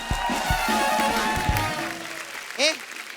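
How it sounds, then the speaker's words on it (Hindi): A studio audience at a comedy show breaks into applause, a broad wash of clapping mixed with music and crowd noise, ending with a short bright rising sound effect. "रॉकेट बॉयज के लिए एक बार जोरदार तालियां हो जाए"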